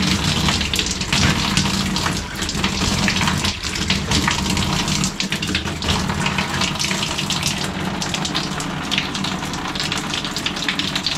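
Pink antifreeze pours from the cold water tap of a Keystone Bullet 261RBS camping trailer being winterized, a steady close gushing splash with a rushing, hissing stream lasting throughout.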